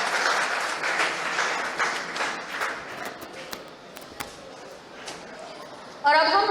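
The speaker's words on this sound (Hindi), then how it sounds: "जितने भी लोग सम्मानित हुए हैं सभी के लिए जोरदार तालियां बजा दीजिए।" Audience applause at a police and social leader excellence award ceremony, a dense burst of clapping that gradually thins into scattered claps before a voice begins at the end.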